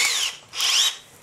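A RUKO spiral drill bit with a FLOWSTEP tip bores into steel, giving two close, loud, high whining grinding bursts with a brief gap between them and no talking.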